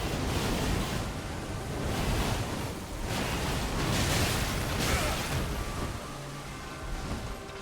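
Rushing waterfall in Elden Ring, a steady broadband roar of falling water that swells and eases slightly, continuous and fairly loud with no talk over it.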